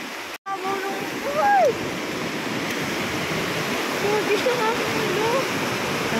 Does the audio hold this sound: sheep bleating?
no